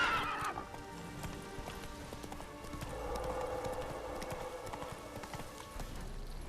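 Roach, a horse in The Witcher 3, gallops with rhythmic clip-clop hoofbeats and a whinny near the start, steady and fairly quiet against a faint game ambience.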